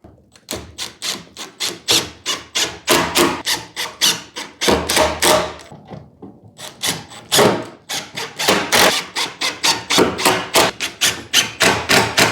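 Rapid bursts of drilling pocket holes in oak plywood for bookcase stretchers, a loud run of short, evenly spaced whirring cuts with a brief pause midway.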